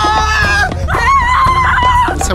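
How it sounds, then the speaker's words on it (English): Film crew and families scream together as panicked villagers of Dale fleeing a smog-choked town for The Hobbit, a loud, sustained chorus of high wailing voices with shifting pitches and overlapping cries. "come down and be panicked villagers for Dale, for when it gets desolated by smog"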